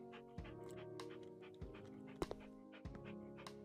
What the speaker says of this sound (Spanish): ¿Qué hace el perro aquí?